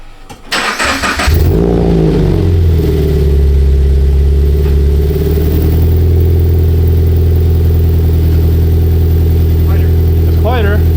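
A Subaru BRZ with a GReddy EVO GT exhaust and an exhaust leak starts up loud and close, then holds a deep, droning idle with a slight rise in revs.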